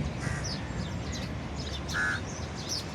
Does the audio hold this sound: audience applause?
no